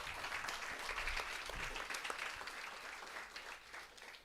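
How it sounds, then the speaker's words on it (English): Conference attendees applaud at the close of a session, a continuous but fairly faint patter of many hands clapping at a distance that eases off slightly toward the end. "So can we give a round of applause for the sir?"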